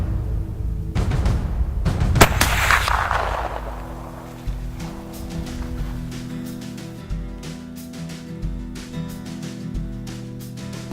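A rifle fired while deer hunting outdoors: a single sharp, loud report followed by a long fading tail, with a softer rustling burst just before it.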